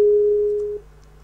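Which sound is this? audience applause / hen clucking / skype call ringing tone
skype call ringing tone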